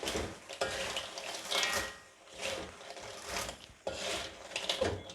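Rhythmic scraping and rustling as spicy tapioca chips are stirred around a small metal wok, the strokes rising and falling steadily with no talking.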